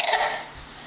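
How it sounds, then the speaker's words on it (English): A young child gives one short, breathy cough close by, a single rough burst that trails off quickly. "Cough, cough."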